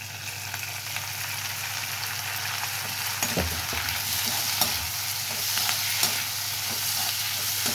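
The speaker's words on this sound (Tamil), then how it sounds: "தக்காளி நல்லா வதங்கட்டும்" Tomatoes sautéing in a pan for a horse gram curry give off a steady, close frying sizzle, with a few soft stirring scrapes partway through.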